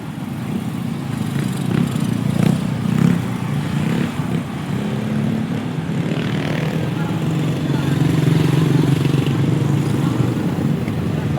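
A motorcycle engine runs on a ride through San Miguel, Bulacan, holding a steady low drone that swells slightly toward the end, with people talking over it.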